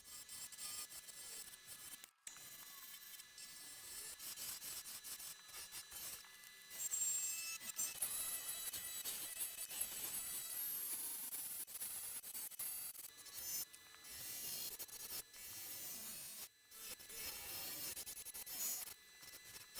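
Steady rasping and rubbing of sandpaper against a mallee burl spinning on a wood lathe, a continuous hissy scratch with small variations, close and moderately loud.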